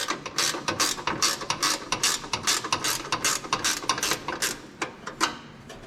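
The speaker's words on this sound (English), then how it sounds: "I got a ratchet wrench that fits down in here." A ratchet wrench loosens bolts on a John Deere 116 riding mower. The pawl gives a quick, steady run of close, crisp clicks that lasts several seconds.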